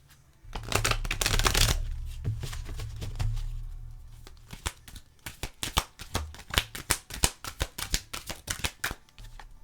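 Oracle cards of the energies deck shuffled by hand, a long riffling rush followed by a run of sharp quick card slaps and flicks, close and fairly quiet with no talk.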